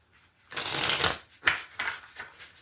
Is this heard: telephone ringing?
no